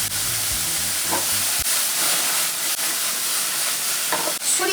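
Rice wine (cheongju) poured into a hot oiled wok while cooking bean sprout jjamppong, a loud rushing sizzle that starts abruptly and holds steady with a few knocks, no talk.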